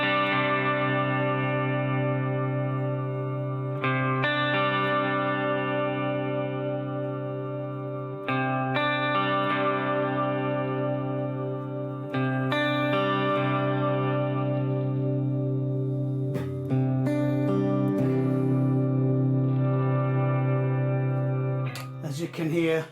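A Harley Benton SC-450 P90 GT electric guitar on its neck pickup plays sustained chords with a warm, rounded tone, notes ringing out and changing every few seconds.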